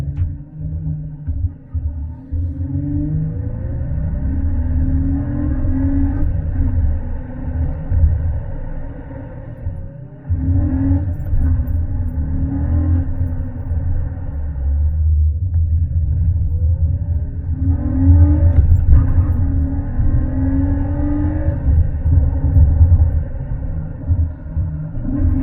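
An Acura TL fitted with a 3.7 intake manifold and throttle body pulls hard on a street, a deep cabin-heard engine rumble rising in pitch through gears in repeated surges, no talking.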